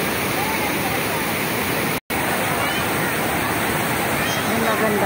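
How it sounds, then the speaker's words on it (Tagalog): Tugunan waterfall in Agusan del Sur, a natural falls: a loud, constant roar of rushing water fills the scene nearby, broken only by a momentary cut, with a voice faintly under it. "Natural ito na falls, hindi imitation."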